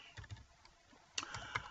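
A web address being typed on a computer keyboard: a quiet, close run of irregular key taps that thickens into a quick cluster of clicks near the end.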